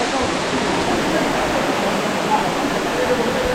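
A tall waterfall deep in the Rangamati hills plunges from a great height, giving a loud, steady broadband roar of falling water that fills the scene without a break.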